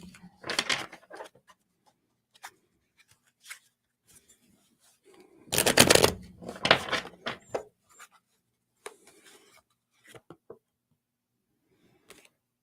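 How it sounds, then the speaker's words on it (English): Soft papery shuffling and riffling of cards in a few bursts, with quiet taps and pauses in between, close and gentle. "I'm going to shuffle really well again before we go to the next one."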